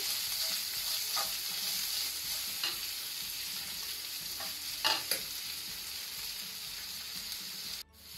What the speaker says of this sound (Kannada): ಈಗ ಇಲ್ಲಿ ಒಗ್ಗರಣೆ ಫ್ರೈ ಆಗಿದೆ